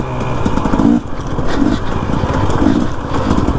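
Dirt bike engine running steadily and loud, revving with brief dips as the rider shifts back down through the gears while riding a military bombing range in Mexico.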